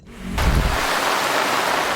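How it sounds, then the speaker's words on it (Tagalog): Heavy rain pours steadily in Bangued, Abra during flooding, a loud, dense hiss that swells in after a brief quieter moment and continues without pause. "Pagbuhos naman ng ulan sa Bangged Abra, binaha ang ilang kalsada"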